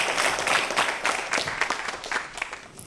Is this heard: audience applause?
yes